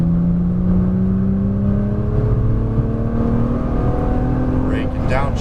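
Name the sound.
Nissan GT-R car driving and accelerating on track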